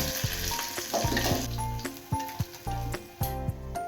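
Hilsa fish heads fry in hot oil, giving a steady hiss and crackle beneath louder rhythmic background music with regular beats and sustained tones.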